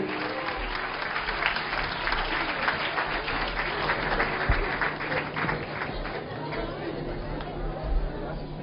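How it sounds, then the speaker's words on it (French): An audience in a hall applauds to welcome a rabbi, a sustained wash of clapping mixed with crowd chatter, steady and fairly loud throughout. "Applaudissements."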